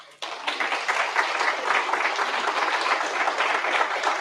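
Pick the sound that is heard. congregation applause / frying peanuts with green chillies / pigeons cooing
congregation applause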